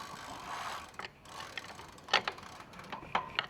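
A bicycle-style pedal being threaded onto the crank arm of an electric tricycle, heard as close, sharp metallic ratchet clicks and scrapes in short bursts, fairly quiet with brief pauses between turns.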